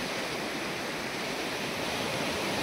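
The Ghod river in flood at Kalamb, its swollen water roaring over a washed-out road culvert, a steady, dense, loud wash with no pause or speech.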